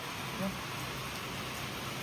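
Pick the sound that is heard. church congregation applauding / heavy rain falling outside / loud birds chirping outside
heavy rain falling outside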